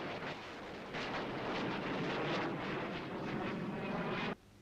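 A HAL Ajeet fighter jet flies past as a loud, steady broadband roar with a rushing, windy texture, holding for about four seconds before cutting off abruptly.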